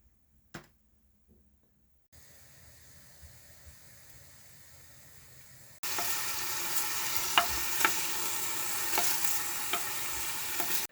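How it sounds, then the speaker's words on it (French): Onions sauté in olive oil in a pan on a gas stove, starting with a few quiet clicks and a low hiss. Then a loud, steady sizzle takes over for the last several seconds. "là, je vais faire revenir sur le gaz"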